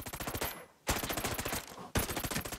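Rapid automatic gunfire from the video game Ghost Recon Breakpoint rattles in three tight bursts, each a fast string of sharp cracks separated by brief gaps, loud and close with no talking.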